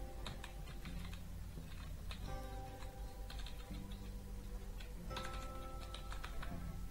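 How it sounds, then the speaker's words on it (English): Typing a password on a computer keyboard: a steady stream of rapid, close key clicks in uneven bursts over a constant background hum, with no voices. "just type whatever password you have"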